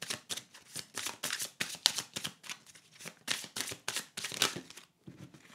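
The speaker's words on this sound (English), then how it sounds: "Let's give that a quick shuffle." Tarot oracle cards are shuffled by hand in a quick series of crisp riffling bursts with short pauses between, close and fairly quiet with no talk.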